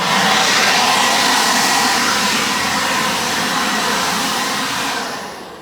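A Ryobi 40-volt battery-powered blower attachment runs at full power, a steady loud rushing roar of air that holds evenly, then begins to wind down at the end, alone without talk.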